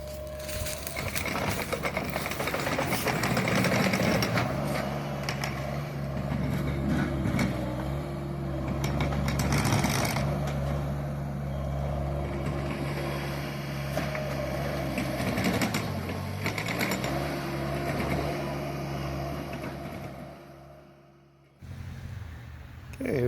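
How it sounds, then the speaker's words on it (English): A skid steer loader grades soil and topsoil in a garden, its engine droning continuously at close range with shifting pitch as it works, then dropping off briefly near the end. "here we are with my annual skid steer rental"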